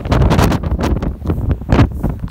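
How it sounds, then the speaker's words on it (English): Heavy, gusty wind buffeting the microphone, roaring in uneven surges at close range with no talking. "It's real windy out here."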